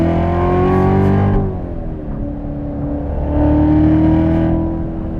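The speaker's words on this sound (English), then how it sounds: "you can hear every time I downshift, I'm not touching the throttle at all." A 700 hp Corvette Z06 engine, loud and close, blips and rises in pitch on each downshift, then settles and climbs again, with a strong steady growl and no talk.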